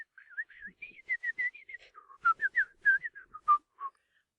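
A man whistles a lively, wandering tune in a series of clear, close melodic notes with short gaps between phrases, during a reading from Dickens's Dombey and Son.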